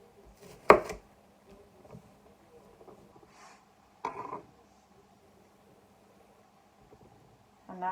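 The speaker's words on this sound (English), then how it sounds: "I'll roughly slice that." A knife roughly slices a white onion for chicken and sweet potato curry, giving a few sharp, isolated chops against a board, widely spaced with quiet gaps between them.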